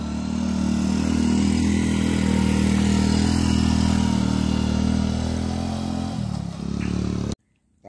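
A motorbike carrying two riders labours up a steep hill road in first gear, its engine droning steadily and strained, close and loud, with a brief dip before cutting off abruptly at the end.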